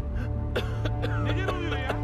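Several characters in the Crysis 2 Remastered video game cough in a run of short, harsh bursts over a constant low game hum, with no talk.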